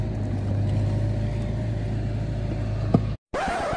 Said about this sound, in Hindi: अब मैं यहाँ पे उल्टी गाड़ी लगाऊंगा